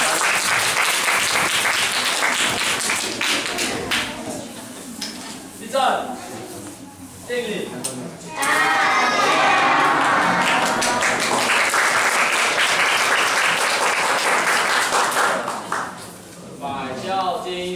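An audience at a school year-end performance showcase claps for the performers after an announcer's call, with amplified speech at first, then a sustained burst of applause swelling in the middle and tapering off toward the end.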